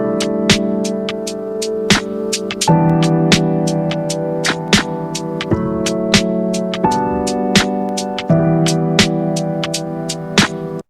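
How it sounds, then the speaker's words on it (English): Roland SP-404 playing a piano sample layered with a drum sample: sustained piano chords shifting every couple of seconds under sharp, evenly spaced drum hits in a steady loop, loud and close. "So I've got the piano sample and the drum sample lined up now"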